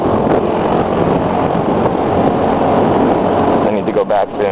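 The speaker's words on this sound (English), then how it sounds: "My engine's running like shit though." An underpowered scooter engine runs roughly while riding through Taiwan's mountains: a steady, loud drone blended with heavy wind buffeting, broken by a few brief dips near the end.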